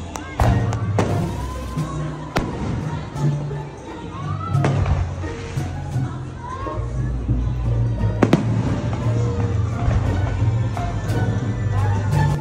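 Fireworks display at the Enchanted Kingdom theme park, with scattered booms and crackles of varying loudness over a crowd and people talking nearby.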